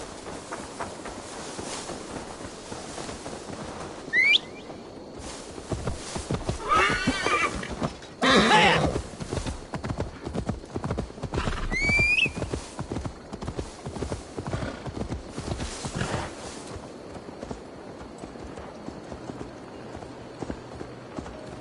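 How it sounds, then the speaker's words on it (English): Horse in Assassin's Creed Valhalla on PS5 whinnies clearly twice over a steady clatter of hooves, with a few other bursts of movement and faint game voices in the mix. "Now to deliver Magni his horse"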